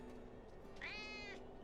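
A single drawn-out cat meow rises clearly over a low, steady game background hum, from a cat in the video game Diablo 4.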